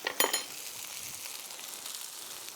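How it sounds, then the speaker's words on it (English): Chow mein noodles frying with soy sauce in a hot pan, a continuous close sizzle with a few quick metallic clinks and stirring scrapes near the start, then steady crackling throughout. "We're now looking to cook the noodles and the soy sauce until they're almost a little bit crispy and dark and intense"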